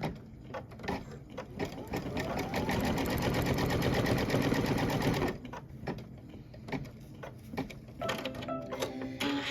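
An embroidery machine sews a placement line, a loud, rapid mechanical rattle for a few seconds that gives way to intermittent clicks and short stitching bursts nearby.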